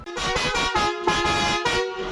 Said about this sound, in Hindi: हॉर्न उनकी दुकान पर ही बजा बजा कर टेस्टिंग कर रहे हैं